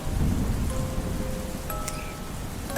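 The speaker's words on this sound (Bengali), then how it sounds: "তার উত্তরে সৌরভ বলে বৃষ্টি না থামা পর্যন্ত আপনাদের ঘরে কি তাহলে কিছুক্ষণ থাকতে পারি" Steady rain hisses throughout, with a deep, low thunder rumble rolling underneath; no voices are heard.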